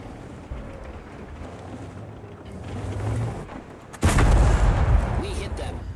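Tank cannon fire in the video game World of Tanks, with one heavy boom striking suddenly midway, its rumble lingering loud afterward over lighter battle noise.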